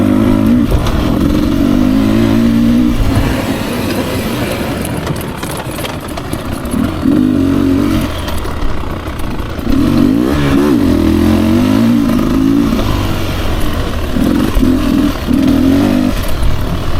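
A 2024 Beta 300RR Racing Edition two-stroke dirt bike ridden on dry trail, its engine loud and close, revving up and easing off in repeated surges across the ride.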